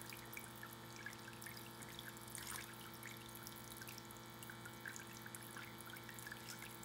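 Faint running water trickles and pours steadily, with small drips and splashes scattered across it. A low hum sits underneath the flow and the level stays constant.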